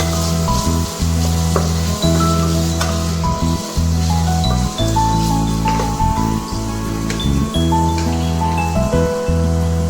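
Onions frying in hot oil for chicken biryani, a continuous crackling sizzle with a few stirring knocks, loud and close over a steady low hum, no speech.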